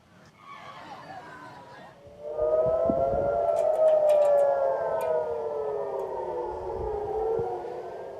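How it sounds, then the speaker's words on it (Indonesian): A civil defense siren sounds across Israel during wartime attacks. The wail starts faint, then rises to a loud, sustained tone that sweeps slowly up and down for several seconds. "Israel membunyikan sirine di seluruh wilayah agar warga tetap berada di dekat area yang aman"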